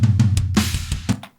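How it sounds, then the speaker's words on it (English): A drum recording, with snare and china cymbal, plays back across a badly placed edit point that causes a glitch: a quick, loud run of close hits over about a second and a half, with no voices. "You're going to hear a glitch."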